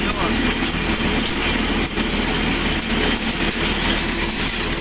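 A tractor-driven thresher working through a cumin harvest on a farm, with a loud, steady engine drone and mechanical rattle running throughout and a voice faintly audible beneath it.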